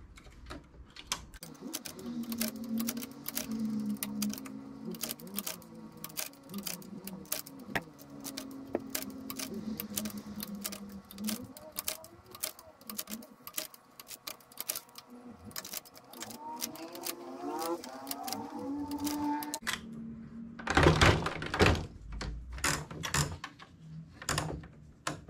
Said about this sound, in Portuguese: Nós vamos trabalhar na parte da máquina agora.